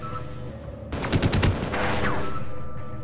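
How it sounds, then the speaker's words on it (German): Automatic turret gunfire in Half-Life, a loud rapid burst of machine-gun shots that erupts after a quiet stretch, followed by a sustained roar as the firing fades. "Automatisches Geschütz."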